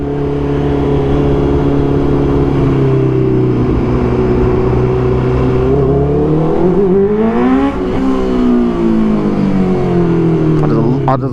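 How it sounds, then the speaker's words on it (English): Honda CBR 650R motorcycle exhaust while riding, a loud continuous engine drone that holds steady then rises in pitch as the bike revs up, with wind rush throughout. "It always gives the best audio of the exhaust."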